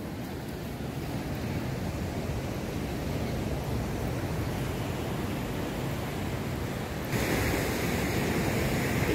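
Sea waves break and wash along a beach beside a temple on the coast, a continuous roaring surf with some wind noise, loud and steady throughout, then slightly brighter near the end.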